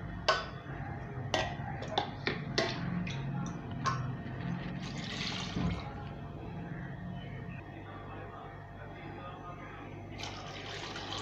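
Water is poured from a cup into a pot for Sri Lankan-style prawn biryani, a few sharp clinks and splashy pours early on, then a softer trickling fill and a brief rush of liquid near the end.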